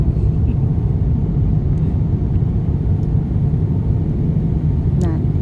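Airplane cabin noise fills the space during the descent before landing at Suvarnabhumi, a loud, steady low rumble with no break, while a brief voice surfaces near the end.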